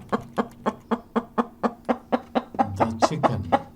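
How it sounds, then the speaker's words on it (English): A chicken clucks in a steady string of about a dozen short, regular clucks close by, speeding into a denser burst near the end, with no voices. "This chicken is a farm animal."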